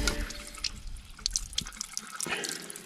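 Water runs into a sink in a desert-region home, a soft, uneven splashing and dripping that is fairly faint and close, with no voices.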